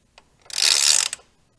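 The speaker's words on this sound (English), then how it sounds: "we're gonna show you how far the chain moves with just one rotation of the nut back here" A chain adjuster nut on a 1982-2003 Harley-Davidson Sportster being turned one full rotation with a wrench, giving a single close ratcheting, grinding mechanical burst of about half a second, preceded by a faint click and followed by a brief tick.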